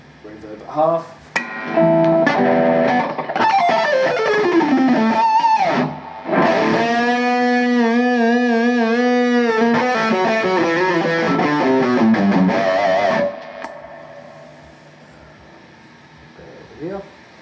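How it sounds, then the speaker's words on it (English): A Laney Ironheart 60 2x12 combo amplifier with reverb set at half plays heavy, distorted guitar: a quick picked run, then sustained chords with a washy reverb tail that fades toward the end, loud and close. "Reverb at half."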